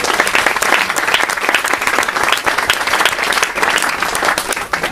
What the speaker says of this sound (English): if we can give a round of applause to Charlie.